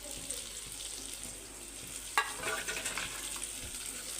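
Cabbage frying in a little oil in a kadai on the stove, a soft continuous sizzle with light stirring and one sharp clink, no voices.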